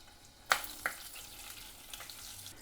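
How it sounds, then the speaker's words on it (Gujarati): A faint sizzle of tempering in hot oil with mustard seeds, cumin and asafoetida, broken by a couple of sharp pops early on. "અહીંયા વઘાર માટે મેં તેલ મૂકી દીધું છે રાઈ જીરું મૂકી દીધા છે હવે આપણે હિંગ નાખી દઈશું"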